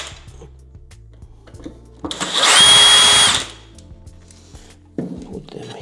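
Power screwdriver whirring as it backs screws out of a JBL Boombox 3 speaker during a teardown, a loud steady burst of about a second and a half standing out from quieter handling clicks.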